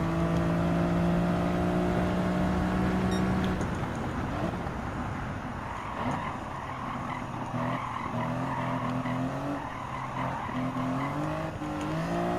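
A Greddy Fugu Z race car at Willow Springs Raceway in Gran Turismo 7 gives a loud, sustained engine whine that shifts pitch as it accelerates, with tire squeal and skidding through a turn.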